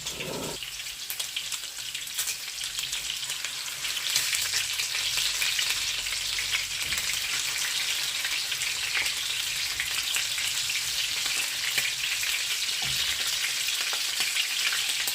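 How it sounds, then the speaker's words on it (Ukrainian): Meat frying in a pan for a simple Ukrainian peasant Christmas dish, a steady dense sizzle with crackling spatter running throughout, close and loud with no talk. "І ось тут, вже коли м'ясо майже підсмажилось"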